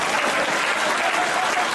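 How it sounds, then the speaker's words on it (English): A convention audience at a furry convention's closing ceremony breaks into loud, dense applause for the volunteer gophers, a continuous wash of clapping throughout. "Give these guys a very big round of applause."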